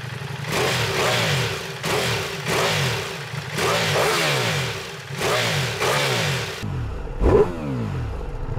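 A 2022 Ducati Multistrada V4S adventure motorcycle's V4 engine revs repeatedly in loud rising and falling surges, close by, then settles into a quieter idle with one brief blip.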